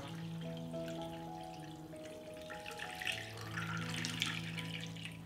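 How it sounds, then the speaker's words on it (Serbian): Hot water runs steadily into a pot holding glass jars set on a cloth, filling to lid height. The soft, continuous pour sounds under a faint sustained background tone. "U šerpu sipam vruću vodu do visine poklopca."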